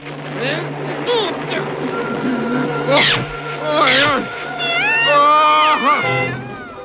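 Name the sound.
cartoon cat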